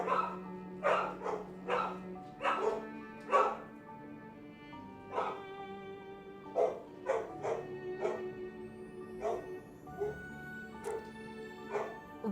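Repeated dog barks and yips in the video game Honkai Star Rail, a dog passing by a house, sounding in irregular bursts over a steady game music background.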